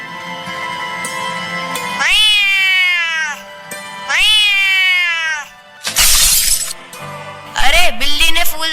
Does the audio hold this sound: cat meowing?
yes